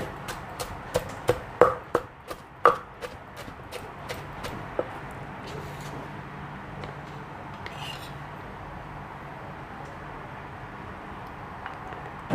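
Pestle pounding dried mackerel and chili paste in a mortar, a run of sharp, irregular thuds over the first five seconds, then soft grinding and scraping with a final knock, close by.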